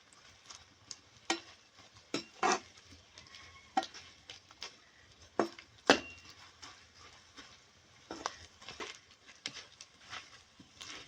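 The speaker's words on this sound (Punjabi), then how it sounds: "ਗੁੰਦਾ ਨੂੰ ਫਰਾਈ ਕਰਨਾ ਬਿਲਕੁਲ ਘੱਟ ਸੇਕ ਦਿੱਤੇ ਤੇ ਤੇਲ ਬਹੁਤਾ ਗਰਮ ਨਹੀਂ ਕਰਨਾ" Edible gum (gond) fries in oil over low heat, with scattered soft crackles and pops and occasional stirring scrapes, quiet and sparse.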